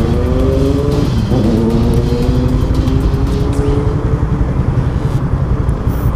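A Yamaha Sniper 150 motorcycle engine revs loud and close, a rising whine that climbs in pitch then holds a strong, buzzing roar throughout.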